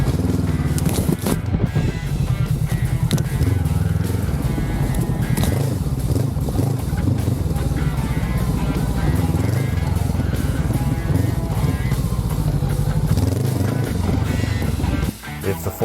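A Honda CB500X motorcycle rides off-road on a forest single track, its engine droning loud and continuous near the rider with rough crackling and flapping wind noise throughout.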